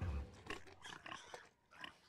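Large pigs in the Hunter x Hunter anime, grunting in a few short, rough snorts close up; the sound is quiet and brief.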